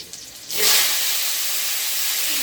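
Mustard greens hit hot oil in a wok with a sudden burst of steamy sizzle after a quiet moment, then settle into a steady, close hiss.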